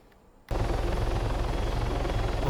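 An MH-9 Hummingbird helicopter in ARMA 3 starts up abruptly after a quiet moment, then holds a loud, steady rotor drone and engine roar with a rapid, even chop underneath.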